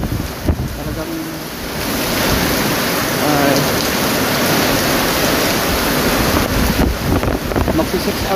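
Super typhoon Aghon brings heavy rain and strong wind, a loud, dense roar of pouring rain and gusts buffeting the microphone, building after the first couple of seconds and staying intense.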